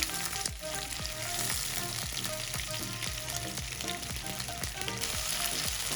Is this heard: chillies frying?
yes